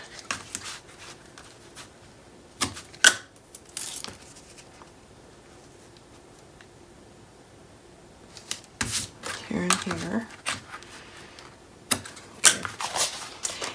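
Adhesive tape pulled from a roll and pressed down while a Stamperia folio base is crafted, with scattered sharp tearing and crinkling bursts between quiet stretches and some low nearby handling noise.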